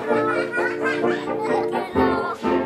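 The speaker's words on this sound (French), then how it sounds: "les canards" Ducks quacking in rapid, overlapping bursts, close and loud, with children's laughter or voices mixed in throughout.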